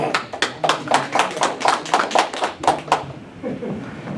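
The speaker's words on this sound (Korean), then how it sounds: "이규원 선생님 나올 때 박수로 환영해 주세요" Audience in an auditorium at a Korean forum lecture claps in a quick, steady rhythm to welcome a speaker, about a dozen crisp beats that stop abruptly, followed by a brief murmur.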